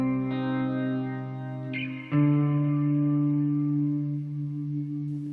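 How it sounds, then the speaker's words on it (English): Sustained electric guitar notes swell with washy reverb from a Meris Mercury X pedal; a new chord strikes midway and, with the hold modifier on, its lush, shimmering tail keeps ringing without fading. "if I use the hold modifier, hear that little bit of reverberation there? That'll actually stay on."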